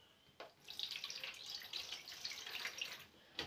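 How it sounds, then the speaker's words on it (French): White vinegar poured into the water tank of a steam iron: a faint, steady trickling splash for a few seconds, close by, with small clicks at the start and end. "Donc je vais mettre du vinaigre blanc"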